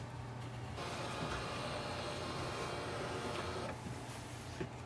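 HP DeskJet 2827e inkjet printer running printhead alignment, a continuous mechanical whir and rattle of the carriage and paper feed, close and steady with brief shifts in pitch.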